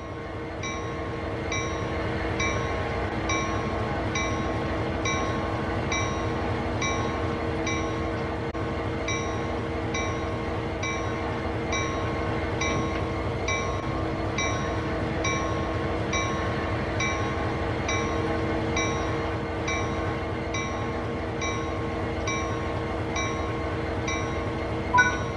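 In the Train Sim World 3 video game, a locomotive turns on a rotating turntable. A steady mechanical rumble and hum runs throughout, with a regular repeating tick on top.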